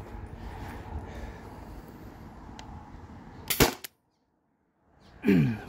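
A Byrna TCR launcher running a modded 20 oz CO2 tank fires a single aluminum ball through a chronograph, a sharp close crack standing out against steady background hiss.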